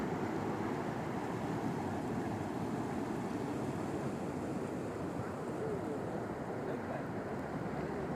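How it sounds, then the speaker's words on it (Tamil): Water pours over the spillway of Kattukkarai tank in Mannar district, a steady broadband rush that runs unbroken and fairly loud throughout, with some wind buffeting on the microphone. "மன்னார் மாவட்டத்தின் கட்டுக்கரை குளம் வான் பாயும் அழகிய காட்சி"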